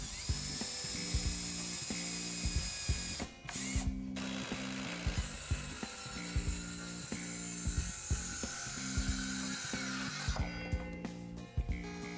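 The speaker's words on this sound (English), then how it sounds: "Drill pilot holes and install exterior grade fasteners designed for use in pressure treated wood." A power drill bores pilot holes and drives exterior-grade screws into pressure-treated southern pine planter boards, with short whirring bursts over a steady rhythmic background.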